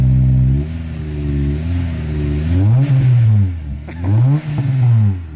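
A Honda S2000 AP2 2.2-litre engine with a Spoon exhaust revs up and down repeatedly, rising and falling in pitch with a throaty exhaust rumble, loud and close.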